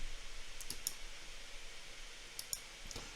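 Computer mouse clicking while working in Excel, a few crisp, close clicks in two quick pairs over a quiet hum.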